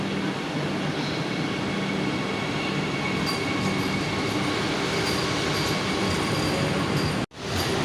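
A train pulling out of a station on a trip from Jammu toward Amritsar, a steady loud rumble and rolling noise of wagons that continues throughout and then cuts off abruptly near the end.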